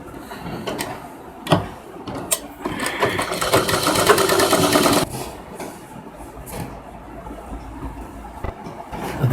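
Sewing machine stitching the sleeve onto a princess-cut lehenga blouse, bursts of motor whir with one longer steady run in the middle, plus handling clicks between stitches at moderate volume.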